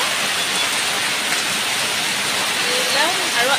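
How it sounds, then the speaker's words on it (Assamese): Heavy rain pours down in a steady, dense hiss that stays loud and unbroken throughout. "এয়া ইমান জোৰে বৰষুণ দিছে"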